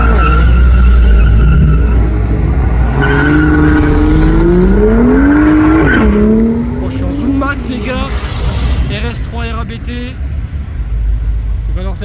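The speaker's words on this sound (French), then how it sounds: "Il va leur faire un petit launch control." BMW M2 launching at an all-makes car meet, the engine revving loudly with rising pitch and tires squealing in a long skid, then fading into crowd noise and voices.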